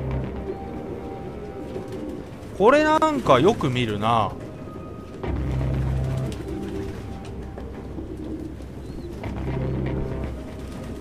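Pigeons cooing in the video game Detroit: Become Human, low soft coos set against quiet ambient background noise while someone talks over part of it.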